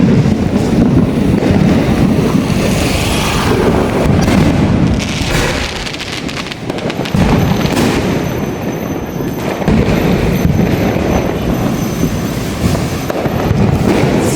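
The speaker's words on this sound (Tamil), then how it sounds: "பாருங்க மொட்டை மாடியில் வச்சு வெடிக்கிறாங்க" Fireworks and firecrackers going off from rooftop terraces and in front of houses across Chennai during a festival, a dense, continuous rumble of bursts and crackles with no pauses, loud and wind-buffeted, with no talk.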